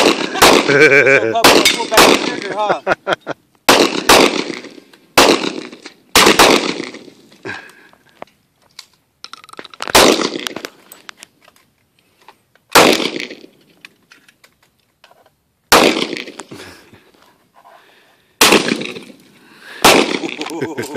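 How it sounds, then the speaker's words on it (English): An Iver Johnson 12 gauge shotgun, cocked before each shot, is fired outdoors. Several loud, sharp blasts come at irregular intervals, each trailing off, with brief speech between them. "You gotta cock it every time you want to shoot it"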